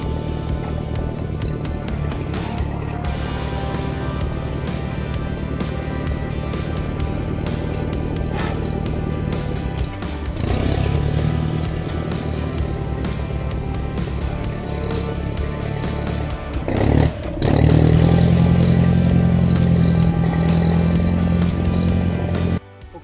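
Old 1010 tractor engine puttering steadily at a farm food plot, a continuous low rumble that holds through the clip and grows louder near the end.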